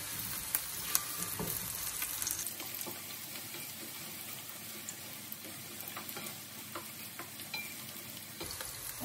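Onions fry and sizzle in a pan for egg bhuna, a steady hiss with light scraping and stirring clatter throughout, close and moderately loud with no talking.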